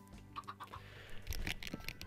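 Minecraft chicken clucks come as short, soft bird calls, a few close together, then a brief cluster of louder clucks against low game background noise.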